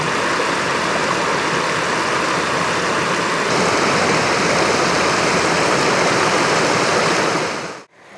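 A waterfall pours into a creek in the Ozark National Forest, a loud, steady, close rushing roar that holds unbroken for several seconds and then cuts off abruptly.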